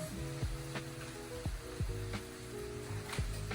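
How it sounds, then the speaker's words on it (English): Bacon sizzles in a frying pan during brunch cooking, a steady crackling hiss close by. Occasional clacks of a utensil against the pan punctuate it, and faint tonal music runs quietly underneath. "we're gonna go ahead and start putting our bacon in our pan so that nothing burns"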